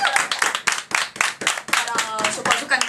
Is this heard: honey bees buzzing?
no